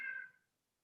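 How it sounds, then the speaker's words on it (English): A single short meow from a pet cat, fairly close and clear, fading quickly into quiet. "my cat's meowing"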